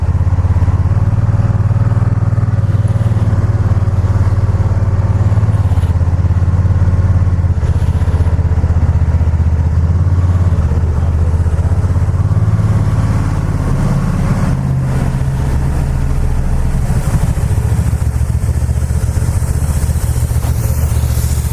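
A Can-Am Spyder three-wheeler's engine runs loud and close, with a deep rumbling idle that swells and falls in a few throttle blips while someone mimics the revving aloud.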